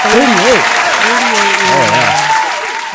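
Applause sound effect played for a birthday: a dense wash of clapping runs throughout, with someone talking loudly over it.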